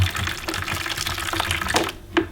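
Hot water splashes and pours steadily while being recirculated from the bottom of a homebrew vessel for a rye IPA, a continuous close gurgle with a brief louder splash near the end.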